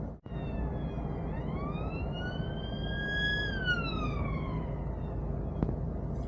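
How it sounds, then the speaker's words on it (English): Police car siren wailing up and down in pitch, moderately distant and faint over the low rumble of idling traffic heard from inside a lorry cab. "Police car."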